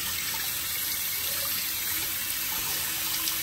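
A steady stream from an outdoor tap runs without pause while something is rinsed beneath it, an even close rushing of water with no voices.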